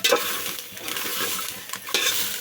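Jujube fruit pickle being stirred with salt in a pan, a steady scraping and light sizzle with a few louder strokes, close and continuous with no talking.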